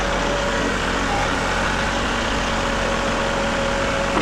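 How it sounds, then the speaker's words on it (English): A tractor engine works hard while pushing a Caterpillar D4 6U bulldozer, giving a steady, loud, continuous mechanical roar with a constant drone and no pauses. "let's see if the tractor wants to manhandle this thing"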